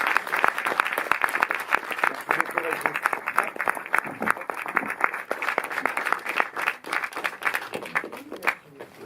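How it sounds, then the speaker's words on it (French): An audience at a film masterclass applauds for several seconds, many distinct claps forming a loud, uneven round that fades slightly toward the end, with some voices mixed in. "Vous pouvez applaudir Régis Varnier"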